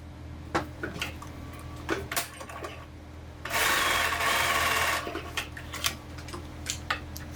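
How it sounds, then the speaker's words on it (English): A sewing machine stitches fabric for a Japanese knot bag in a short close burst of rapid whirring, set among quiet taps and clicks of handling the cloth and machine. "I'm going to go ahead and sew this one."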